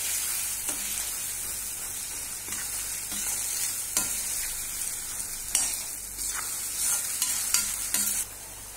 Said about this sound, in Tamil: இப்போ நல்லா எண்ணெய் கூட சேர்ந்து நம்ம வச்சிருக்கிற இந்த மாங்காவும் கொதிச்சுட்டு இருக்கு